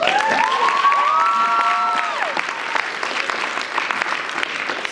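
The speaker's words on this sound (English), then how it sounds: "a big round of applause for my class that just went" An evening audience applauds and cheers for a graduating class at a class 12 project presentation, a dense, continuous clatter of clapping that stays loud, with whistles and a few shouts rising above it early on.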